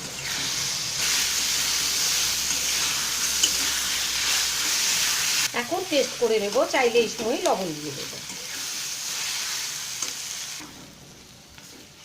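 Minced mutton keema frying and being stirred in a pan, a steady close sizzle with scraping strokes throughout, while a voice talks briefly in the middle.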